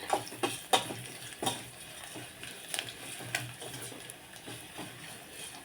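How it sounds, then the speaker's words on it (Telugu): Dal poured into frying onions in a pan, a soft sizzle under repeated sharp metal spoon scrapes and stirring clacks, close and uneven in rhythm. "ఎల్లిపాయలు బాగా అయితే పప్పు ఇందులో తిరగపోసేస్తాను"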